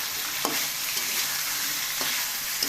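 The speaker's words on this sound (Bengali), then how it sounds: "এই যে চামড়াগুলো থাকার কারণে এটা ব্রয়লার মুরগির জন্য খুব ভালো করে আমি ভেজে নিচ্ছি" Pieces of broiler chicken skin fry in hot oil with a continuous, loud sizzle, broken by a few light clicks from stirring.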